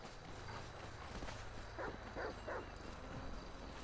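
Dog barking in the video game GTA 5, a few short barks in quick succession near the middle, moderately loud over a steady background game hum.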